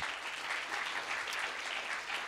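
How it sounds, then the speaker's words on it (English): Quiet, steady applause from a conference audience at a Bitcoin scaling event in Hong Kong, an even patter of clapping heard at a distance with no talk over it. "let's have one more round of applause for all of our work in progress speakers"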